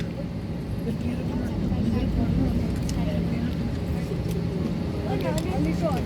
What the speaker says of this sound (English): On the last flight, the engines were not as this loud on taxi, but today the raw power is getting showcased.